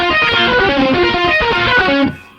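A riff played on guitar through MIDI Guitar 2 software, sounding like a thick, distorted keyboard synth: dense sustained chords held loud and steady for about two seconds before a quick fade.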